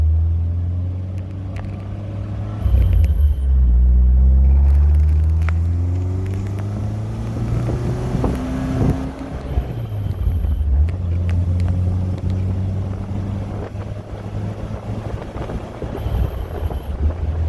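A 1974 Alfa Romeo on its first test drive, the engine droning steadily in the cabin with rising and falling revs through gear changes, under heavy wind buffeting.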